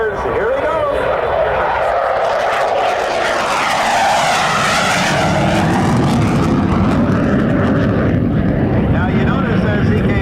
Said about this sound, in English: Of course, the engine is still running, so there comes full power on.